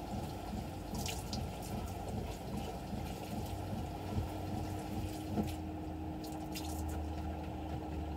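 A broken outdoor water spigot leaking, a steady running-water hiss with occasional drips and splashes, continuous and fairly close, no talk.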